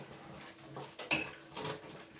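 A spoon clinks against a pot while beef stock for Irish stew is stirred. The scraping is soft, and there are a few louder metallic taps near the middle.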